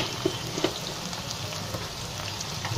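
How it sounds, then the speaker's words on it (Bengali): Onions frying with salt in a pan, a steady soft sizzle with faint crackles and occasional light stirring clicks, close and continuous throughout. "পেঁয়াজটাকে কিন্তু লাল লাল করবো না, জাস্ট একটু ভেজে নিলাম।"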